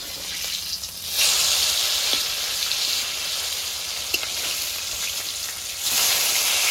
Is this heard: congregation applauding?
no